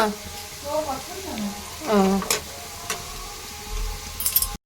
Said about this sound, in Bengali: রান্না হচ্ছে রান্না স্পেশাল আলু ভাজা